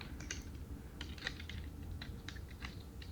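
Plastic Transformers Studio Series Hook figure parts snap and click together in a quick, irregular run of small, close, quiet clicks over a faint background hum, with no voices.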